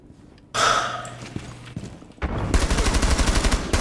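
Loud bursts of gunfire in the video game Rainbow Six Siege: a single shot pattern early, then a sustained rapid automatic volley of evenly spaced cracks filling the last half.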